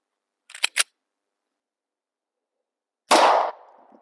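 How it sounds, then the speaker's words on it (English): A .40 S&W pistol, an XD40 loaded with Federal 165-grain rounds, fires at an anvil: a few faint clicks, then one sharp, loud report with a short ringing tail, and no talk. "we got some Federal 165 grain, I believe, 40 Smith & Wesson, shooting out of this XD40."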